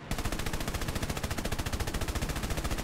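A 20 mm rear gunner on an aircraft fires in War Thunder, a fast, steady burst of rapid cannon shots running unbroken and loud for about three seconds.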